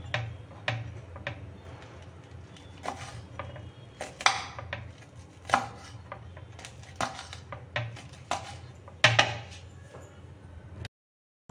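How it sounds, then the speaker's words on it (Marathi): A knife chops green chilies on a board as they are readied for a crushed thecha with garlic, cumin and peanuts, giving a steady run of crisp, close taps and clicks with a few louder strikes. "त्यासाठी आपण आता मिरच्या कापून घेऊ"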